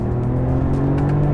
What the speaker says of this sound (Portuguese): reduzindo aqui, ó, a gente escuta, ó, esse ronco